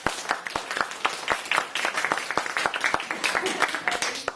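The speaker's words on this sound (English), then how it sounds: "A round of applause" Scattered claps from a small audience at an early-morning community talk on waste and trash, uneven and fairly thin, some voices mixed in.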